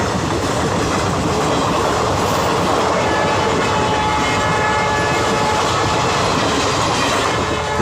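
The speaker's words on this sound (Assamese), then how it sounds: "বহুত সময়ৰ পিছত ৰেলখন আহিল" A train rumbles past a railway crossing, loud and close, with continuous wheel clatter and horn tones over the roar.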